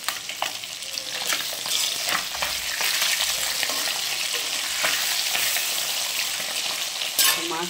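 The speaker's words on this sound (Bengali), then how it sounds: "আর এদিকে দেখো মাছ ভেজে রাখছি।" Fish fries in hot oil in a loud, continuous crackling sizzle close by, with occasional spatula scrapes and no talking.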